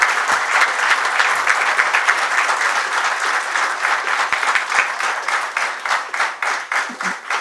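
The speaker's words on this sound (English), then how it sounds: "Ladies and gentlemen, a big round of applause for Dr. Prashant Samant and Mrs. Samant." An audience at a seminar award function in a hotel gives sustained, dense, even applause, loud and close throughout.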